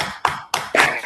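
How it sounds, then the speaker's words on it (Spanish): A few scattered hand claps applauding a speaker at a law lecture, quick and sparse, lasting about a second with no talking. "les pido un pequeño aplauso para nuestra ponente del día de hoy"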